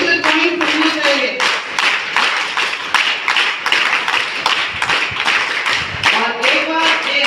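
Participants at an International Yoga Day camp clap their hands as a pressure-point exercise, making a run of loud, rhythmic claps close by, with brief voices at the start and near the end.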